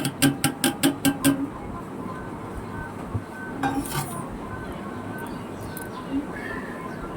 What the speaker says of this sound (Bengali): এবার যে ভাজা হয়ে গেছিলো সেটা আমি খিচুড়ির মধ্যে ঢেলে দিলাম।